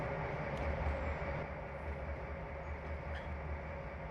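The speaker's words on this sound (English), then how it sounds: "So it'll just stop the train now." A train in the Trainz Simulator World Tour game on Xbox, brought to a halt for speeding, gives a steady, loud rumbling roll that stays even throughout with no talking.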